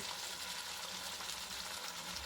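Chopped tomato and a spoonful of salt hitting fried, reddened onions in a pan, giving a steady, soft, continuous sizzling hiss throughout with no talking.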